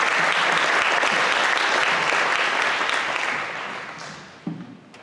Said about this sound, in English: about another round of applause for the Hawkins Center?